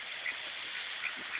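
Brief nasal mallard duck quacks, three short calls over a steady hiss of outdoor noise at an animal sanctuary in summer, fairly faint and at a distance.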